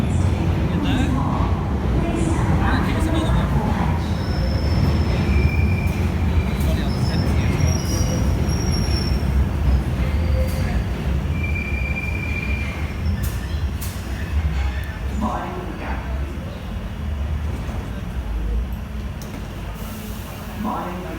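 London Underground Bakerloo line train running, a steady loud rumble of wheels and carriage noise with faint squeals and whines over about twenty seconds.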